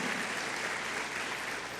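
A church congregation applauds together in a sustained, dense wash of clapping that stays steady and fairly loud throughout, with no speech over it.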